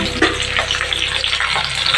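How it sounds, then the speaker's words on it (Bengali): Onion going into hot oil already seasoned with cumin, bay leaf and curry leaves, for a rohu (katla) fish curry, giving a steady, close, broadband sizzle that holds throughout with no talk. "এখন আমি পেঁয়াজটা দিয়ে দেবো।"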